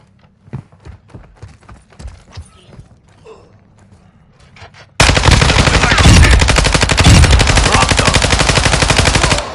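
Sustained automatic gunfire from a shooter video game bursts in halfway through, loud and dense, after a quieter stretch of scattered lighter shots and clicks.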